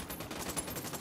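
Dense, continuous automatic gunfire from a firefight in the video game Ghost Recon Wildlands, a short burst of rapid overlapping shots filling the whole moment with no voices.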